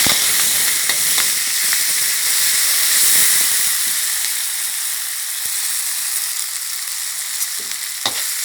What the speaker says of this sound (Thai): น้ำมันร้อนแล้วนะคะ พริกแกงค่ะหนึ่งขีด ใบมะกรูดห้าใบ กระเทียมหนึ่งหัวค่ะ ผัดพริกแกงให้หอมก่อน